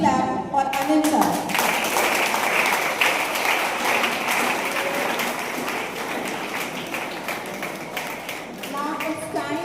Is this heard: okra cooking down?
no